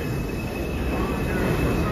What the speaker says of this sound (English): Welcome to this long video of trains at Brooklyn Bridge City Hall